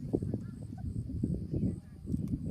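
A turkey gobbles in a quick, rapid run of short guttural pulses, fairly close and moderately loud, with a little background noise.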